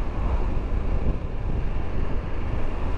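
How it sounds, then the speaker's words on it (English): Heavy wind noise roars continuously against the microphone on a road during a motorbike trip, a dense low rumble with no talk over it. "lovely but sunny day, but windy, very windy up here."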